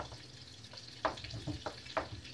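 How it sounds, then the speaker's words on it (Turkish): Sugar syrup for baklava bubbles faintly in a pot, with a soft sizzling background and a few sharper pops and spatters. "Şerbetim de kaynıyor orada."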